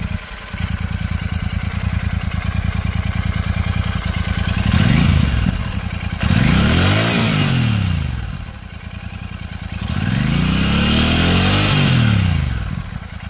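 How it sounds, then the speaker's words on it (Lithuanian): A Royal Enfield 650 Classic motorcycle engine idles with a steady throb, then revs up and down in three long swells, loud and close, with no voices. "kaip dirba variklis, kokį garsą leidžia, tai bandau demonstruoti"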